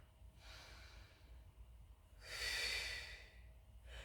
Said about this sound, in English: You're breathing in through your nose and out through your mouth.